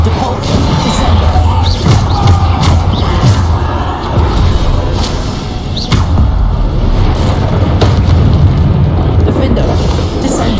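Explosive booms and crashing blasts from Bombarda and other spells in the video game Hogwarts Legacy, repeated over a dense, loud combat mix with scattered sharp impacts and a voice speaking underneath.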